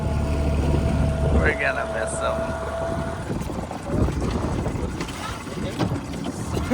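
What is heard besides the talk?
dinghy boat ride on water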